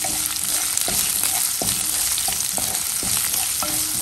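Onion and garlic fry in a pan, giving a constant loud sizzle broken by regular scraping strokes of a stirring utensil, close and without talk.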